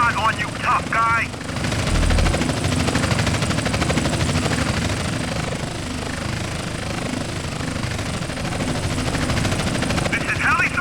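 A police helicopter in GTA San Andreas gives a steady, loud rotor drone that runs through the whole stretch, with game voices speaking over it.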